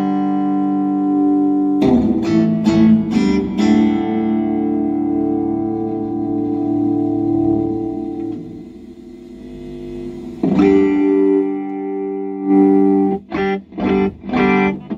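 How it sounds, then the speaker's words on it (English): Electric guitar chords strummed through an Orange amp reverb unit, left ringing with a splashy, drippy spring reverb tail, then more choppy strums near the end, loud and slightly gritty. "Let's turn the reverb up."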